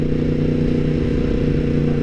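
A decatted Yamaha MT10 motorcycle with an unmapped inline-four engine idles steadily, a loud, close, continuous rumble with no voices.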